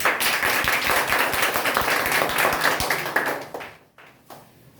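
A class of children claps hands in a fast, dense burst of sharp slaps that runs for about three seconds, then thins out into a few scattered claps and fades.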